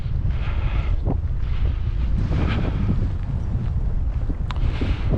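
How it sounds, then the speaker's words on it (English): Gusty wind in a winter woodland buffets the microphone with a constant low roar, loud and close, with faint rustles rising and falling over it and no one talking. "The trees cut a lot of the wind down."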